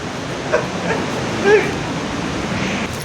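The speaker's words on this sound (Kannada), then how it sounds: "ಈಗ ನೋಡಿ ಉಂಚಳಿ ಫಾಲ್ಸ್" Unchalli Falls on the Aghanashini River roars as a steady, dense rush of falling water, loud and unbroken, with voices speaking over it.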